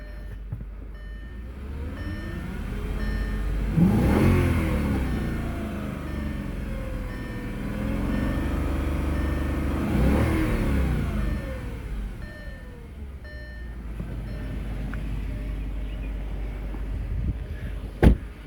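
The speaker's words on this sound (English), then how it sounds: "Let me give this another good rev." An Audi A6 C6 4.2 engine idles during a Sea Foam treatment and is revved twice in long swells that rise and fall, settling back to a steady idle hum between them, close by with no talk.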